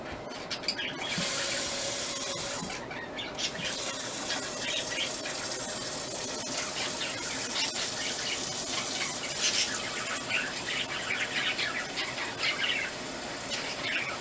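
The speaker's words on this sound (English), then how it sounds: "So we're going to be adding" Water pours steadily into a pot in a continuous splashing rush, with a few faint bird chirps in the background.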